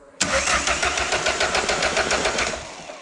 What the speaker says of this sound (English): let's try and see if this engine will turn using the starter motor